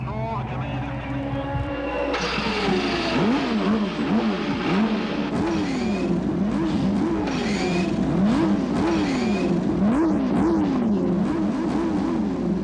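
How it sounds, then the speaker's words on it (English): IndyCar race car engines fire up and rev across the starting grid on Belle Isle in Detroit at a 1993 CART race, loud buzzing revs rising and falling in repeated waves under a commentator's voice and crowd noise. "Gentlemen, start your engines."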